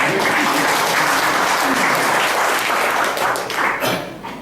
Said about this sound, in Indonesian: Saya sudah semangat, ya, ada tepuk tangan.